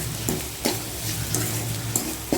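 Sambar with asafoetida is stirred in a pan, a steady low simmering hiss broken by regular scraping strokes of the spoon about every half second, close and without voices.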